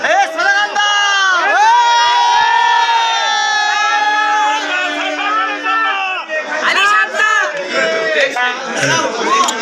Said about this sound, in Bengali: একটু স্লোগান দেন, একটু সবাই স্লোগান দেন